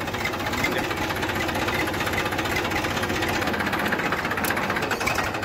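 A Massey Ferguson 245 tractor engine runs steadily near a farm field, a loud, continuous diesel chug with a fast knocking rhythm that holds evenly throughout and has no talk over it.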